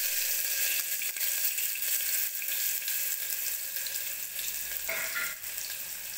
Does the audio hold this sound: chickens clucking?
no